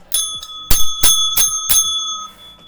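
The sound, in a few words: little winning bell rung after a chess win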